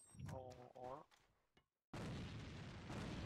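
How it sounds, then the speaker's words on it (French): A grenade blast in the video game A.V.A Global bursts in abruptly after a short silence, a loud, sustained broadband roar that fills the rest of the moment, following a stretch of a player talking. "Sa grenade, les stairs"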